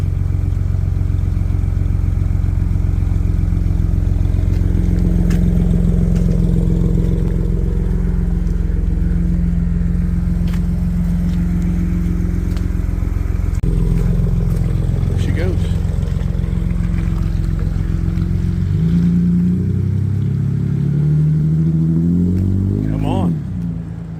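Deep rumbling engine note from a truck fitted with a custom exhaust, loud and close, swelling as it pulls away on a rainy day, with people talking over it.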